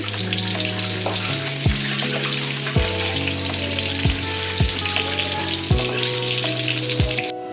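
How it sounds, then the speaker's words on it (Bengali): Lightly frying eggs hiss and crackle in a pan with a steady close sizzle throughout, alongside intermittent tonal background sounds and no talking. "ডিমগুলোকে কিন্তু খুব বেশি একটা ভাজিনি একদমই হালকা করে ভেজে নিয়েছি"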